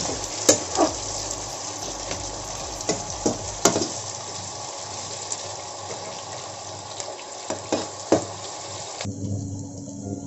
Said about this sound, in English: we have to fry this onion